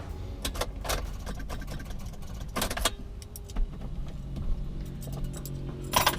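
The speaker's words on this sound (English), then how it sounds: "So the car won't start again" A car in Haiti failing to start during a rainstorm: several short, sharp bursts of mechanical cranking and rattling spaced irregularly, over a constant low background hiss.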